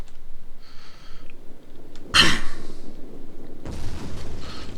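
An artillery shot in the video game Total War: Rome 2 fires as a single sharp boom midway through, surrounded by quieter battlefield noise and faint hissy bursts.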